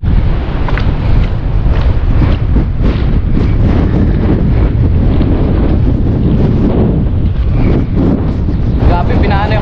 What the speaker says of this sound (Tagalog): uwi na rin tayo kasi lumalakas na yung bagyo